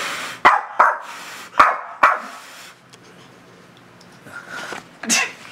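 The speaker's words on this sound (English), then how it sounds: "Like, why is she barking?" A dog gives a series of sharp barks, about five in quick bursts during the first two seconds and one more near the end, close and loud, with quiet room noise between.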